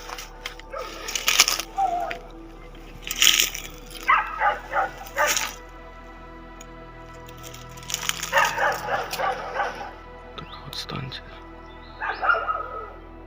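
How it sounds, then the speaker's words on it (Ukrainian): Several dogs bark in repeated bursts near abandoned railway wagons in the Chernobyl zone around Pripyat, close and loud with quieter gaps between volleys and no talk over them. "Собаки бляха. Гавки добре хоч не підбігають."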